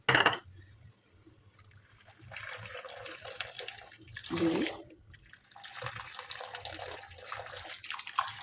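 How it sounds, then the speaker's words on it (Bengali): Water is poured from a bowl onto sugar in a plate or pan, giving soft, uneven splashing and trickling in a few bursts, quiet and close, with no talk. "এইবারে 3 বাটি জল দিয়ে দেবো।"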